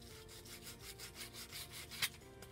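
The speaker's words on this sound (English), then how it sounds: "I'm gonna come over here and I'm gonna sand this" Sandpaper rubbed back and forth along the edge of a glossy book cover, a steady run of rhythmic close scraping strokes with one sharper scrape near the end.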